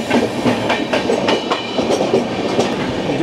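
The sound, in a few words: Deccan Queen Express train passing through Dadar station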